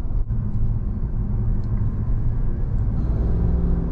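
A 2023 GMC Sierra AT4X AEV pickup truck drives steadily on a curvy road, its engine and road noise forming a loud, continuous low rumble heard from inside the cab.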